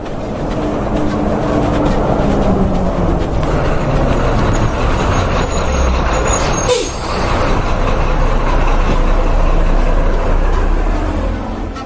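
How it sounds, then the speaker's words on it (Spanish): A large vehicle pulls up with a steady, loud rumble that fills the scene, and a sharp hiss of air brakes releases near the middle before the engine noise carries on. "ñapas auto hamunqaña, chay autopi wasaritan ripusunchis"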